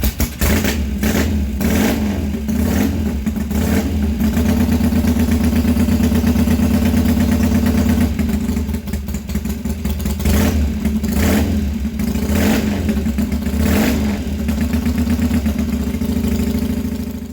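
Replica of an AJS V-twin world speed record attempt motorcycle, its engine running loud and close with repeated hard revs rising and falling over a steady throbbing idle, no voices.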